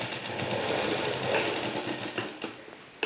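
A sewing machine runs a fast, even whirring stitch as it joins a sleeve to a blouse, then slows and stops with a few faint clicks.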